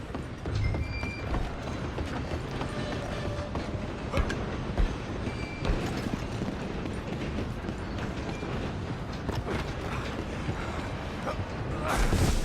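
A moving train in the video game Red Dead Redemption 2 gives off a steady, close rumble with scattered metallic creaks and clanks that run through the whole stretch and swell slightly near the end.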